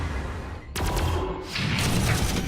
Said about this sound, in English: Move Basilisk over here, and he can start shelling those guys.